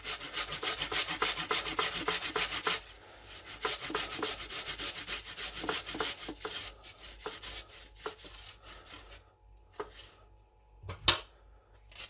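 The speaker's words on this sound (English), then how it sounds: "On the same grater, but on the small one, I'm gonna do the garlic clove." A garlic clove rubbed over the fine side of a small grater, rapid rhythmic rasping strokes close by for a few seconds, then slower scattered scrapes and a sharp tap near the end, no speech.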